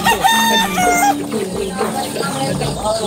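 Chickens roam loose on a large farm, clucking and crowing close by with a rooster's drawn-out calls, several birds overlapping through the moment.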